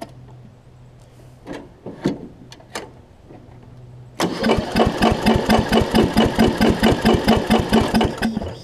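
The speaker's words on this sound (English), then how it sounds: "Let's see if it'll crank back up for us." A Murray widebody riding mower with a new carburetor and fuel lines cranks with a few short bursts, then starts and runs loudly with a steady rapid engine chug, close up with no talk.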